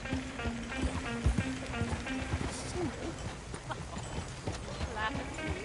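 Hooves of a horse-drawn coach clop along in a Red Dead Redemption 2 game scene, steady brisk hoofbeats with wheel rattle, moderately near, under characters talking.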